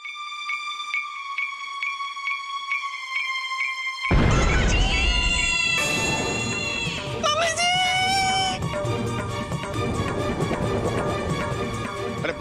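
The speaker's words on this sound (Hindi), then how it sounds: "ये चीख की आवाज कहाँ से आई?" A sudden loud scream rings out, with high wavering cries over a busy, dramatic background score after a quieter musical stretch.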